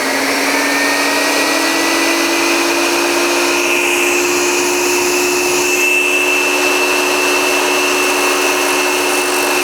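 A power saw grinds steadily through Versetta stone while cutting a slow, shallow miter, a continuous loud whine holding for nearly ten seconds with no voices.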